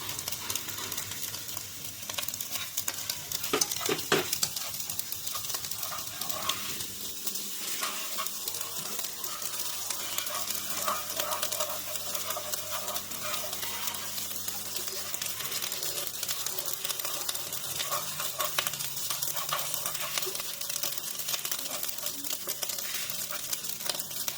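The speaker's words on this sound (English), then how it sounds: "we need to put the sausages into the pan and mix well with the rice" Sausages stirred through rice in a frying pan for fried rice, a constant close sizzle with scraping spoon strokes and occasional light taps, steady throughout.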